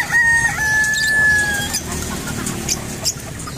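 Chickens clucking and squawking close by while eating pellets, a high drawn-out call at the start followed by scattered short clucks.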